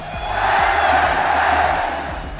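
A large crowd at an esports tournament, the Fortnite global championships, cheering and roaring loudly in a sustained swell that rises and then slowly fades.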